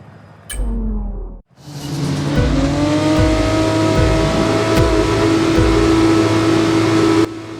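Formula 1 race cars in a racing video game launch from the grid at the British Grand Prix, engines surging loud and close then holding a high, rising whine as several cars accelerate together.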